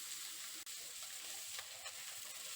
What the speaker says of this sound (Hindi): ब्रोकली को भी 2-3 मिनट सौटे करेंगे। बीच बीच में कड़छी चलाते रहेंगे।